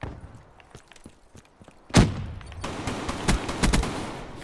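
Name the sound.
Haymaker gunfire in video game Black Ops 3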